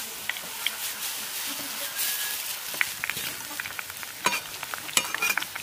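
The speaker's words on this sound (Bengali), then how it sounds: "যেহেতু আমি কাঁচা আলু সরাসরি তেলের মধ্যে ফ্রাই করছি" Raw potato strands fry in hot oil over medium heat, giving a soft, continuous sizzle with scattered crackles and pops at a fairly low level.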